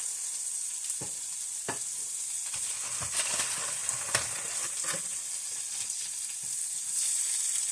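Breakfast food sizzles and fries in a pan with a constant crackling hiss, broken by scattered louder pops and stirring scrapes. The sound is close and moderately quiet, with no one speaking.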